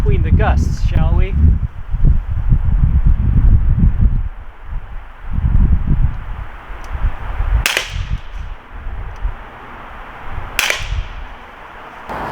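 Umarex Beretta Px4 Storm CO2 air pistol firing outdoors in gusty crosswind, two sharp isolated cracks a few seconds apart amid wind rumble and low talk.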